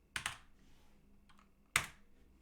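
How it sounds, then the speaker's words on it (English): Keys on a computer keyboard are struck while logging out of a minimal Debian installation: a quick pair of clicks at the start, a faint tap in the middle, then one sharper keystroke, all close and alone. "I type exit."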